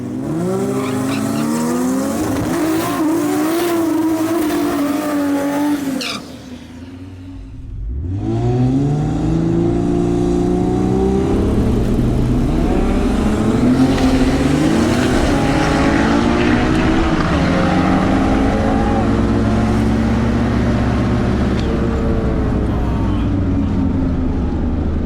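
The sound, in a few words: drag race car making a pass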